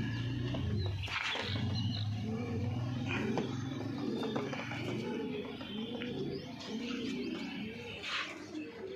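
Green Punjabi Malwai pigeons coo in soft, repeated low phrases close by, with some light chirping mixed in and no talking.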